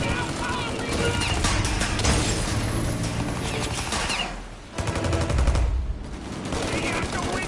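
Rapid minigun fire in the Mafia game on PS5, a dense continuous mechanical rattle that briefly drops out before resuming, loud and sustained with excited voices shouting over it.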